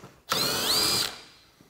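A power tool whirs once for about a second as it backs out a screw holding the dash of a Polaris RZR 1000, close and alone, then the sound fades away.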